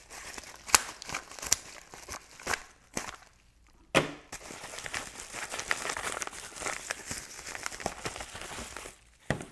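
A padded mail envelope holding a baseball art card is handled and torn open nearby, a series of crinkles, sharp tearing rips and paper rustles, louder in bursts, with no talking.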